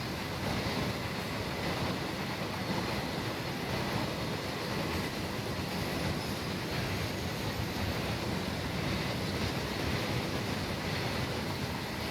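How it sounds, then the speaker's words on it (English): In Train Sim World, a short local train rolls past close by at Salisbury Junction in the rain, a steady, dense rumble of broadband rail noise holding constant throughout with no voices. "this is a short local train"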